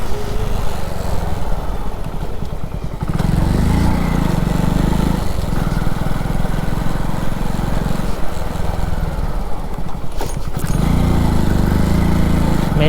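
Motorcycle engine accelerating slowly in second gear, a continuous close rumbling drone with pulsing throb that dips and rises in several surges, heard alone throughout.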